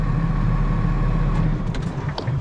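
A Royal Enfield Himalayan Scram 411 motorcycle engine runs steadily nearby, its rumble swelling louder toward the end before easing off.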